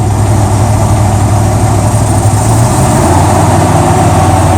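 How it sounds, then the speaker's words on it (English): A 1978 Chevrolet El Camino engine running steadily at about 1500 RPM while still warming up, a loud, close, continuous rumble with an even tone and a slight shift in pitch partway through. "The engine's still warming up."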